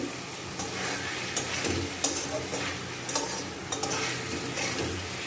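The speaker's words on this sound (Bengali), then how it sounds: "সব মশলা কষে নিয়ে আলু আর ডিম দিয়ে কষছি" Potatoes and eggs are stir-fried with spices in a pan, a low steady sizzle under repeated scraping and tapping of a spatula against the metal, close and fairly quiet.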